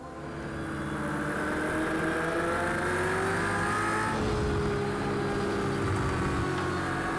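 Race cars leaving the grid at the start of a British GT Cup race at Houghton Park in Project CARS 2, with a Ferrari in the field: several engines rev and climb together through the gears, rising pitch swelling loud then easing.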